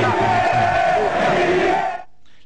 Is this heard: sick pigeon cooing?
no